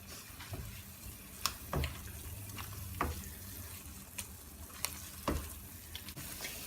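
A vegetable spaghetti mixture with zucchini noodles cooks in a pan, giving a quiet, steady sizzle broken by several sharp clicks and clatters of utensils against the pan, with no one speaking.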